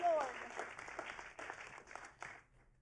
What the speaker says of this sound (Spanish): Let's clap our hands at Jesus.